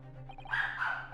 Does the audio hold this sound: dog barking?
yes